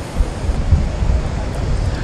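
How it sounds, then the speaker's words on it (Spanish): Rímac river water rushing hard and slamming against concrete near a bridge, a steady loud broadband roar with wind buffeting the microphone throughout. "golpe del río junto con el concreto está provocando lloviznas esta zona del puente"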